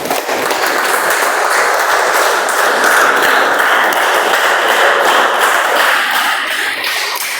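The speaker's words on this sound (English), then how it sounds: "Please, with a huge round of applause, help me welcome Toastmaster Gopinathan." A large audience at a Toastmasters meeting claps to welcome a speaker: dense, loud, steady applause that holds for several seconds with no talking.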